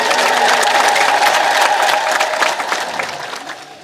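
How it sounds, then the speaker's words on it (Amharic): A church congregation claps in a dense burst of applause with ululation, loud at first and then thinning and fading out. "አጨብጭቡላት፣ እልል በሉላት።"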